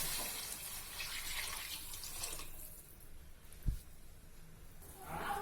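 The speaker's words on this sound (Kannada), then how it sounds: "ಇವಾಗ ನೀರು ಹಾಕ್ತಾ ಇದ್ದೀನಿ" Water is poured into a cooking pot for upma in a steady, fairly faint stream for a few seconds, then thins out, with a soft knock partway through and the flow rising again at the end.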